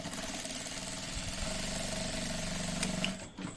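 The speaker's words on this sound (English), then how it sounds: "So we'll now sew this just by the side of that line." A sewing machine runs steadily, stitching a cargo patch pocket just beside a marked line, a continuous mechanical whir that holds for several seconds before easing off, with no talk.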